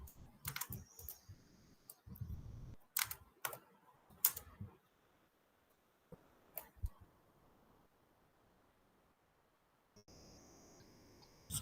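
Scattered computer clicks and taps while saving work, a handful of sharp isolated clicks spread over near-silence.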